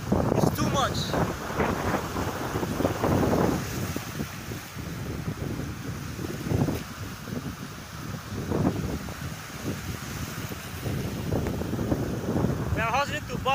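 Wind gusting outdoors on a sunny day near water, a steady broadband rush with microphone buffeting that rises and falls throughout, with people talking faintly underneath.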